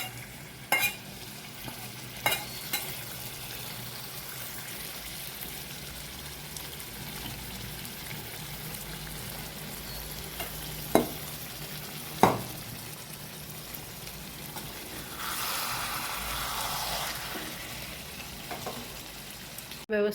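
Chicken handi cooks in a pan while being stirred, with a soft, steady sizzle and a few sharp utensil clinks against the pan. A louder stirring scrape comes near the end, and the scene stays fairly quiet.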